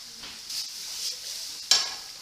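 Finger food sizzles steadily in hot oil in a frying pan, with stirring scrapes and a sharper hiss flaring near the end; close and fairly quiet, no talking.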